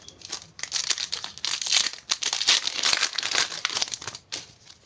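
Foil wrapper of a Pokémon trading card booster pack crinkling and tearing open close up, a dense continuous rustle with brief pauses, no talking.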